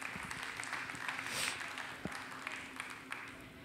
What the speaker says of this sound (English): keep that applause going for Lewis's other assistant, Helen Tagler.